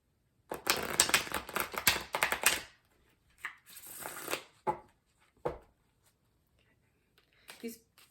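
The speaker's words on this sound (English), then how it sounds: "These bigger decks of cards, I have to start shuffling kind of sideways now because they make my hand hurt." Shuffling of a large Cosmic Tarot deck held sideways, a riffling burst of card flutter lasting about two seconds, then shorter shuffles and a few soft taps, close and fairly quiet with no talk.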